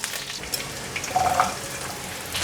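A steady hiss of carrots, red beets and mushrooms being stir-fried quickly in a pan, with a soft rise and fall as the food is tossed.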